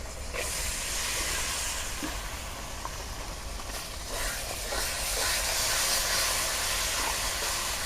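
A paste of cashew, onion and green chili sizzles in a hot pan, giving a steady, loud hiss that runs unbroken and swells slightly toward the end, with no talking.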